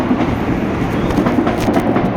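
A crowded passenger train between Caieiras and Piqueri rumbles steadily and loudly from inside the carriage, with a dense low roar and faint clattering under it and no talk.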